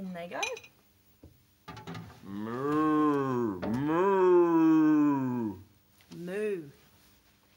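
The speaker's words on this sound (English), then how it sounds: "Did you guess it was a cow?" A cow moos several times, long deep drawn-out lows, loud and close, with a brief spoken phrase and a light clink near the start.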